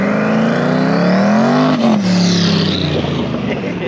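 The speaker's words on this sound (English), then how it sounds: "they fired up that twin turbo El Camino with the LS" A twin-turbo LS-swapped Chevrolet El Camino revs hard at a cars-and-coffee meet, its loud engine note climbing and falling in close, sustained bursts with no talk over it.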